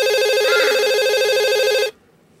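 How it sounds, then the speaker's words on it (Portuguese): A mobile phone rings loudly with a steady, repeating electronic tone that plays continuously for almost two seconds, then cuts off abruptly into near silence. "Tá tocando celular."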